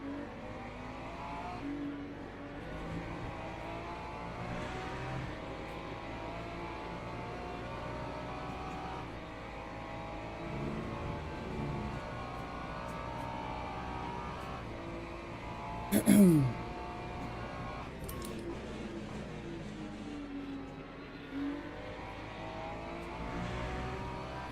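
LMP2 race cars in the Le Mans Ultimate racing game drone steadily at a constant engine pitch, with a brief sharper burst partway through and someone talking quietly underneath.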